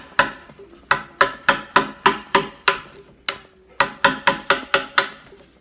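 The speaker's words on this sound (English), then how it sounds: "these are just construction chisels" Construction chisels struck with a mallet carve into the wood of a coastal canoe, giving a steady series of about fifteen sharp, close knocks in even rhythm, with one brief pause partway through.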